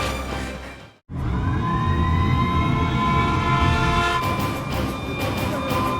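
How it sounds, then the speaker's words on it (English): A colony alarm siren from Xenoblade Chronicles sounds after a brief silent cut, loud and wailing, with rising tones sweeping up over a dense rumbling bed and holding on to the end. "Hey, this siren, it sounds different."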